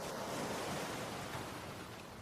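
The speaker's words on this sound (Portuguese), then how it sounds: "As ondas são suaves e a praia é protegida do siroco, um vento seco e quente que sopra da Líbia." Gentle sea waves wash onto a sheltered beach in Crete as a soft, steady surf hiss that stays faint and even throughout, with no voices.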